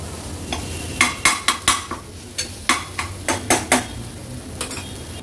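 Ground masala paste and tomato being cooked in spices in a pan for a Maharashtrian veg thali, with sharp metal spoon scrapes and clanks against the pan in quick bursts over a low background.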